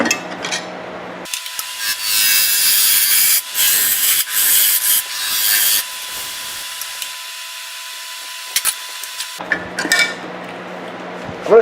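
Wooden segmented peppermill being turned on a lathe, a loud steady scraping and rubbing from the cutting tool that stops for several seconds before the motor hum and scraping return.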